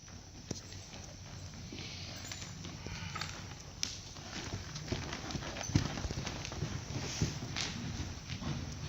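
A horse cantering with rhythmic hoofbeats thudding on the ground at a moderate distance, the steady gait running over a continuous background hum, with occasional faint voices.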